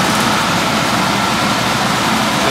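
Diesel engine of a Slavutych KZS-9-1 combine harvester running loud and steady right after starting, a dense continuous rumble and roar with no voices over it.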